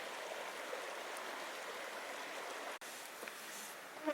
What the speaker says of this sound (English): right over there is the creek. Very, very nice spot. Will lull me to sleep.